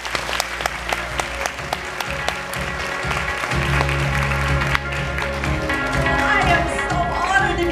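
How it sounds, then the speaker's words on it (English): A seminar audience claps to welcome a guest speaker. Scattered individual claps build into full, sustained applause, and a low musical tone rises underneath partway through. "Ladies and gentlemen, a big round of applause, please, for Dr. Michele Borba"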